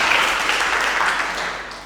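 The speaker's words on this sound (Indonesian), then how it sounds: "sekali lagi tepuk tangan untuk Mbak Vica" Audience applause at a lecture, a steady wash of clapping from a crowd that fades slightly toward the end, heard for under two seconds with no talking over it.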